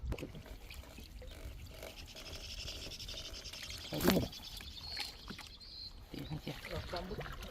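Water sloshes and knocks around a small rowing boat on a fishing outing under steady outdoor noise, with one sharp thump midway and voices faintly in the background.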